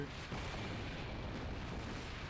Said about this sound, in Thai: ระเบิด